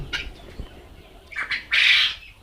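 Young chicken chicks on a poultry farm give a few shrill squawks and cheeps, the loudest a sustained call near the end, close by against a quiet background.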